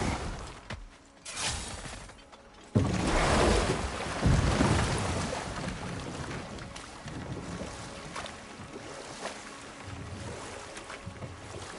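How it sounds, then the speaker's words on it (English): Waterfall in God of War Ragnarök, a steady broad rushing roar of water that swells after a brief quieter opening and then holds continuously, with no talking. "Waterfall. We're close."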